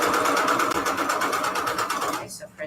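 Sewing machine stitching paper and fabric for a junk journal, a close, fast steady whirring patter for about two seconds before stopping.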